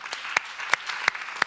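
Sparse, evenly spaced hand claps ring out in a conference hall at an event on parenting, four sharp claps standing out over a soft room murmur.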